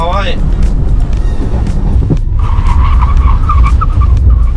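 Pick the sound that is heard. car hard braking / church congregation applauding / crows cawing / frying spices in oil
car hard braking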